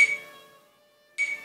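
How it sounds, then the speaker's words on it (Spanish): Metronome ticking at 50 beats per minute, two bright, ringing clicks about 1.2 seconds apart, close and alone with a short decaying tail. "obviamente les voy a presentar el metrónomo"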